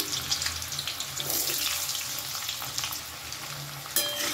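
Diced potatoes with dried red chilli frying in hot oil in a pan: a close, steady sizzle with scraping stirs, ending in a sharper burst near the end.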